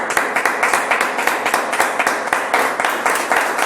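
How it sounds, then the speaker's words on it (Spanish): A church congregation claps together during worship, loud and close, in a fairly regular rhythmic beat of sharp hand claps that carries on steadily throughout with a roomy, echoing texture. "Le damos un aplauso al Señor Jesucristo"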